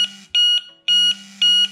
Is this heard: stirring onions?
no